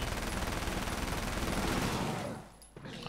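A sustained spray of automatic gunfire in Alan Wake's American Nightmare, dense and loud for about two seconds, then cutting off abruptly into quieter game ambience.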